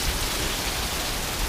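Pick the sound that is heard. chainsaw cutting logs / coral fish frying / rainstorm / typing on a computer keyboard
rainstorm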